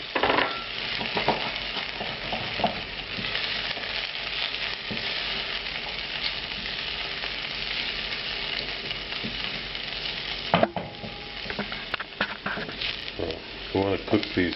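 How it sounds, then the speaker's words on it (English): Shallots and dried apricots fry in fat in a pan with a steady close sizzle, stirred now and then with scrapes and clacks of a utensil, for a Moroccan-style chicken tagine. "We want to cook these apricots in the fat a little bit."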